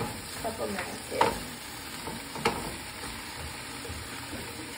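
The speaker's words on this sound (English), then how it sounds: "You hear that sizzle?" Swiss chard sizzles in a frying pan greased with Crisco, a steady close hiss with a couple of sharper stirring scrapes, no talking.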